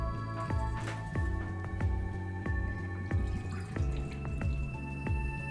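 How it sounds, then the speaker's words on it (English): Plymouth gin poured from a bottle into a jigger, two ounces measured in glugging, dripping trickles over a few seconds, close and fairly quiet. "We want 2 ounces of our Plymouth gin."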